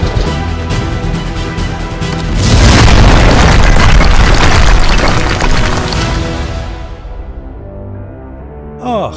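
A loud explosion builds into a heavy, rumbling boom that swells for a few seconds, then fades away into near silence.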